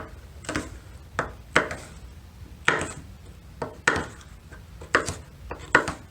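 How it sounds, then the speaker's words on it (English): A knife chops through a bell pepper onto a cutting board in about nine separate, sharp knocks at an uneven pace, close and clear. "now I'm going to get started with chopping my pepper."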